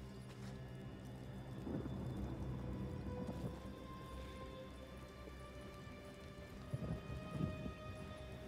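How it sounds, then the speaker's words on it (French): Rain falls steadily in the Days Gone Remastered video game, a constant patter on surfaces with low rumbles of thunder and a few louder drops, heard alone. "Il se met à pleuvoir"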